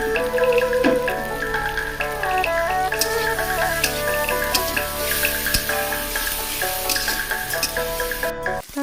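Tomato, onion and chopped ginger fry in a pan with a steady, close sizzle and crackle, and music plays faintly underneath.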